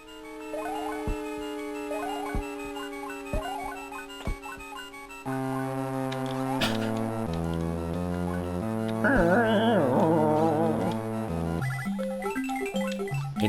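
Custom chiptune-style music plays from a Super Mario World GBA remake video game, a busy synthesized tune with plucky notes that shifts to fuller layered melody and warbling lead halfway through, moderately loud and without voices.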